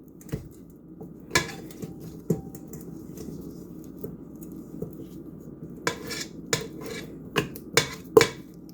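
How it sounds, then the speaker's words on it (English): Softened butter being creamed in a bowl for sweet potato pie filling, with irregular sharp clicks and scrapes of a utensil against the bowl, growing quicker and denser toward the end, close and fairly loud with no talk. "So I'm just gonna cream my butter."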